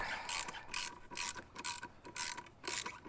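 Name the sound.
12mm socket ratchet loosening Suzuki VanVan exhaust hanger bolt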